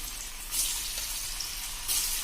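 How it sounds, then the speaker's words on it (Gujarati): Okra bhajiya fry in hot oil over a full flame, giving a steady close hiss and sizzle with two brief louder surges of bubbling. "આ ફૂલ ફ્લેમ ઉપર જ તળવાના છે"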